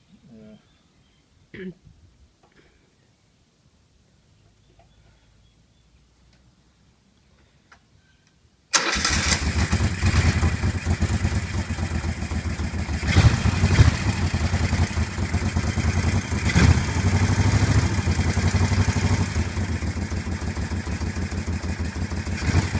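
Moto Guzzi SP1000 and SP2 motorcycles: after quiet clicks and handling, an engine fires up abruptly and settles into a loud, steady, throbbing idle close by.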